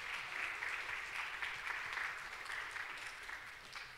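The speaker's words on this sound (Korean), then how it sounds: "박수로 또 감사함을 같이 표현했으면 좋겠습니다" At a church worship service, the congregation claps in thanks. The applause is soft and distant and holds evenly before slowly tapering off.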